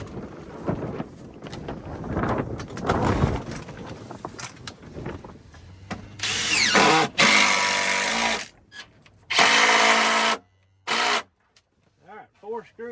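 A power drill drives screws through a silage cover into wood outdoors, with short, loud whirring bursts near the mic, wind buffeting, and someone talking beforehand.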